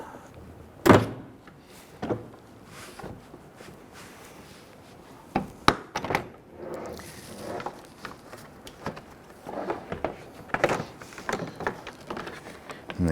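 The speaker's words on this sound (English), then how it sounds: "Let's go ahead and lift up on our door panel." A 2012-2017 Toyota Camry rear door panel is lifted off during a rear window regulator replacement, giving a few sharp plastic clunks and thunks, loudest near the start and middle, with softer handling noises in between.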